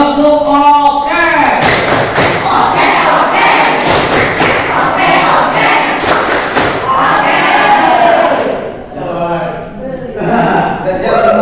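A group of schoolchildren in a classroom chant loudly in unison in Indonesian, punctuated by rhythmic bursts of clapping, with a few voices trailing off near the end.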